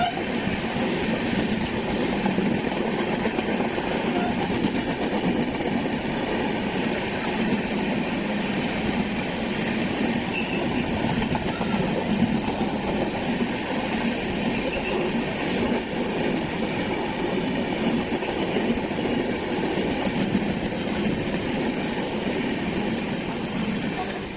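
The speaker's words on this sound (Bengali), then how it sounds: "আমরা এখন পার করছি বালি রেল ব্রিজ" A Kolkata to Digha passenger train rolls across the Bally rail bridge, its steady, loud rumble and rattle running unbroken from close by, with faint voices now and then.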